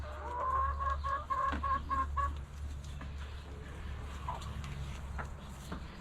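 Farm chickens cluck during evening chores, a close run of sharp clucks in the first couple of seconds that then fades to quieter calls over a low steady hum.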